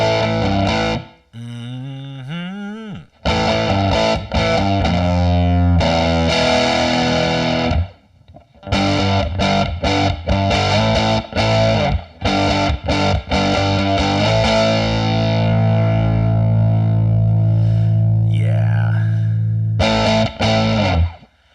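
Overdriven electric guitar through a KRA Bogen CHA 20 tube amplifier with no pedals, a gritty amp tone playing a loud riff of chords and bends that ends on a long sustained note, no voices.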